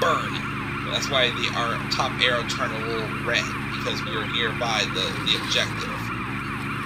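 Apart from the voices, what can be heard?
ambulance siren in a video game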